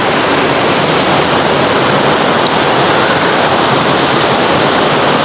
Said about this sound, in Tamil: அருவி மாதிரி சின்னனா ஒரு ஆறு ஒன்று வருது